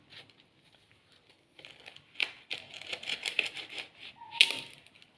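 A knife cuts oven-baked tortillas into pieces, producing a rapid run of crisp, close crunching and crackling snaps after a quiet start, with one sharper crack near the end.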